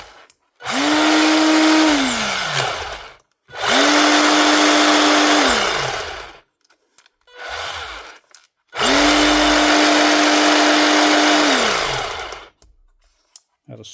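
A Panasonic EY7880 SDS drill, freshly fitted with new brushes, spins up in three loud bursts of a few seconds each with a short blip between, motor whine rising and falling at each start and stop.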